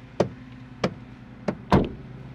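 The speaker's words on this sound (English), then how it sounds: "When you close the passenger door, something in either this hinge or inside of this connector is making a clicking sound." A 2021 Ford Bronco passenger door clicking from the hinge or connector area, four distinct sharp knocks and clicks spaced at roughly even intervals, close by with no talk.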